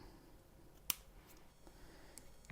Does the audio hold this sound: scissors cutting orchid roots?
yes